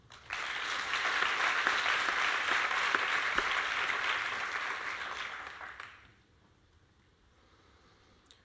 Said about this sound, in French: on peut les applaudir pour cela